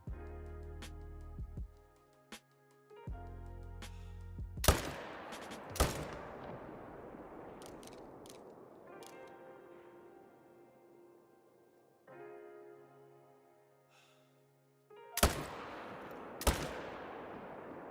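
Rifle shots ring out during a wolf hunt in theHunter: Call of the Wild, with two pairs of loud, sharp reports spaced well apart over a steady bed of game music and ambience.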